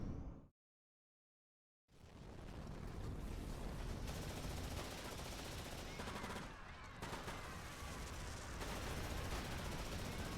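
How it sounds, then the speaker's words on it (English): Heavy sustained gunfire rattles in Fate/Grand Order Lostbelt 7, a dense continuous barrage of rapid shots after a short silent gap, loud and unbroken for the rest of the stretch. "That's a lot of gunshots."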